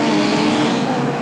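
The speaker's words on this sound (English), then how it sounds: "a very, very fast break indeed for that 174 car who shoots straight away there" Hot rod race cars roar away at the start of a 1981 Brafield race, a dense, loud wall of engine noise with tyre hiss, close and sustained throughout with no voices.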